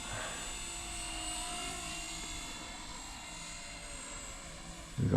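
Blade 250CFX RC helicopter fitted with a Microheli three-blade head flying, a steady high rotor and motor whine held at a moderate distance, ending in a brief low rumble.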